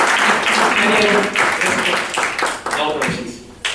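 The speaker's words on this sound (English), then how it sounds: "Please help me welcome with huge round of applause Toastmaster Shujashan." Audience applause fills a Toastmasters evaluation and humorous speech contest hall in 2011, a dense, steady burst of many hands clapping close by that thins toward the end, with voices mixed in.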